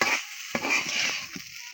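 Leftover rice fries in a pan over lowered heat, a brief moderate sizzle with a few stirring scrapes and taps, no voices.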